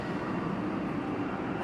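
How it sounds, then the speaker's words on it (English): Steady low rumble and rolling rail noise of a train arriving at a platform in Melbourne's Southern Cross station, continuous and moderately loud throughout with no talk. "Trains arriving."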